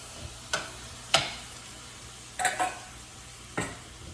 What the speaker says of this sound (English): So I'm just gonna toss those shrimp in there and give them a really quick saute